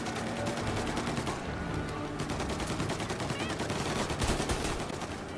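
Steady bursts of gunshots from Mafia Definitive Edition crackle through a car chase in city back streets, loud and nearly continuous, layered over a rumbling engine.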